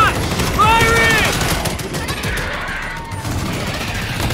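Rapid bursts of gunfire from the video game Halo Reach rattle close and loud, layered with shouting voices and sharp whooshing effects.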